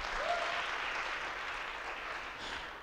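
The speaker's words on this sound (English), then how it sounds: "clap hands for Jesus" A church congregation claps during a worship service, the applause soft and somewhat distant, forming a continuous even patter that fades slightly toward the end.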